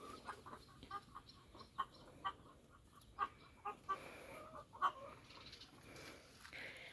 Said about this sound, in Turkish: Bunlar yeni tavuklarımız arkadaşlar.